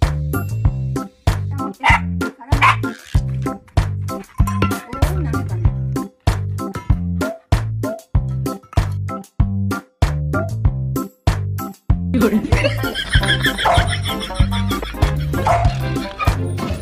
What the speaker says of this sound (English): How my dog asks for food.